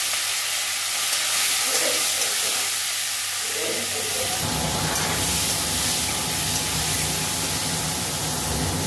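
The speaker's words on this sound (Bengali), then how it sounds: "কাঁচা লঙ্কা, শুকনো লঙ্কা ফোড়ন, আর দিয়ে দিচ্ছি টমেটো।" Tomato dropped into hot oil with a tempering of green and dried chilies gives a loud, steady, close sizzle that continues without a break, and no one speaks over it.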